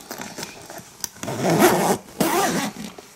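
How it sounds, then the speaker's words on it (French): A zipper on a knitted-goods or knitting bag runs in several quick pulls, close to the microphone, with rasping scrapes of the zip teeth and short pauses between strokes. "Regardez, avec des fermetures éclairs."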